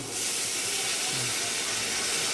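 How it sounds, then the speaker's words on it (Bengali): Hot water hits a hot frying pan of browned food and bursts into a loud, close hiss of steam that holds steady for the whole moment. "সামান্য একটুখানি গরম জল দিলাম"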